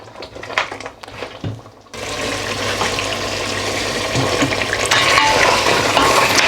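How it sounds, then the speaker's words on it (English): Lamb paya curry simmering in a pot makes a steady, close bubbling sizzle that grows slightly louder and more continuous over time, following a few brief clatters of stirring at the start. "this has been cooking away for 15 minutes"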